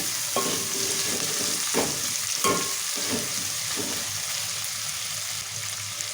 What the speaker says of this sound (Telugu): ఇప్పుడు ఇక మునక్కాయలు టమాటాలు కళ్యామాకు వేసుకున్నాం కదా మంచిగా ఇట్లా కలుపుకోవాలి ఒకసారి